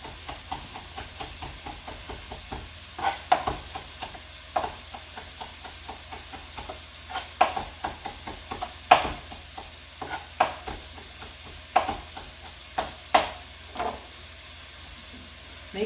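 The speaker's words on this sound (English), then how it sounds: "Make sure you stir these occasionally so that they're not burning or browning too much." Sausage and lentil-dish ingredients sizzling steadily in a hot pan, with repeated scraping stirs from a utensil punctuating the constant frying hiss, close up and without talk.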